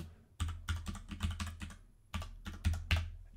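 Typing a git command on a computer keyboard: close, crisp keystrokes in quick bursts, a brief pause near the middle, then a few more firm taps.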